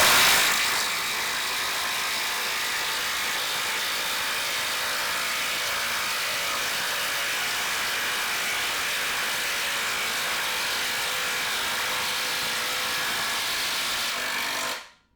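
A Hyper Tough brushless 12V cordless impact driver hammers in a steady, continuous whir with a gritty rattling edge, running loud and unbroken for about fourteen seconds before cutting off.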